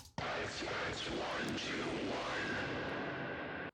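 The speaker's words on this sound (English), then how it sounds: "So I recorded myself chanting that just with whispers" Breathy, heavily processed whispered chanting washes through, airy and echoing with a faint tonal shimmer, steady and fairly quiet throughout.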